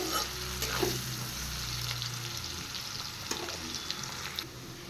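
A chopped medium-sized onion fries in a pan with a constant, close hissing sizzle, punctuated by a few sharper crackles and faint scraping as it's stirred.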